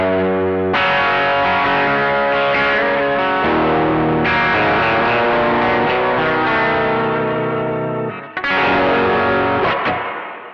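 An electric Telecaster partscaster played through its back pickup at full volume with heavy distortion rings out in loud, sustained chords that change every second or two, with a fresh strum near the end.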